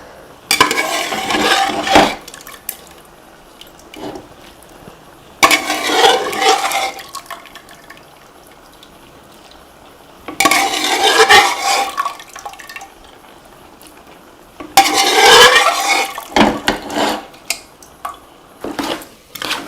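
Cooked tapioca being stirred together with clam meat in a pot, heard as four separate bursts of wet, clattering scraping and sloshing, each a couple of seconds long, with quiet gaps between them and no talking.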